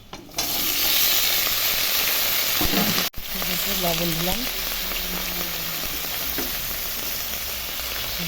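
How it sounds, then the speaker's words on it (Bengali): Vegetables fry in a pan for a small fish curry, a loud, steady oil sizzle close up, broken briefly by a clatter, while someone talks over it. "সবজিটা ভালো করে ভাজা করব।"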